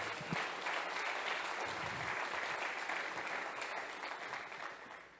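Steady applause from a church congregation, a soft, even wash of many hands clapping at a distance, tapering off slightly toward the end.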